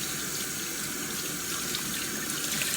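Cold water pours steadily from a tap onto the foam insert of a sandy RC car tire, a continuous close hiss and splash of running water with no talking.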